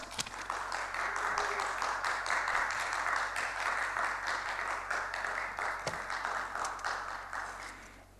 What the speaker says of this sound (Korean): 여러분 각 곳에서 힘차게 박수로 맞이해 주시기 바랍니다